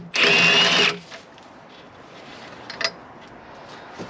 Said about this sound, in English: using an impact gun is fine, but you only do short bursts because you don't want to damage the alternator